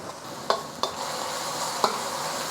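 Garlic and ginger sizzle in hot pork fat and cooking oil in a wok, a steady fry with a few sharp scrapes of a spatula stirring, close and alone.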